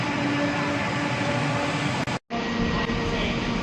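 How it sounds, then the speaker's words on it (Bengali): A fast train rushes past a station platform with a loud, continuous roar that cuts out for a brief moment before resuming. "দ্রুত গতির ট্রেন, এটা অনেক ফাস্ট যায়।"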